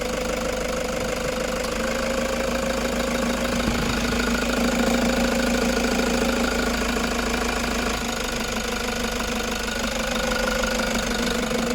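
A 2016 Toyota Hiace 3.0 diesel van engine idles steadily with a low, continuous rumble and faint knocking vibration, constant and close throughout.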